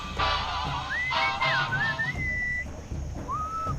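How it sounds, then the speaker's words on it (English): A clear, melodic whistle in the video game Sam & Max Beyond Time and Space rises and glides through a lilting tune, pausing briefly before one more short whistled phrase, with no talking. "What is that enchanting whistling sound?"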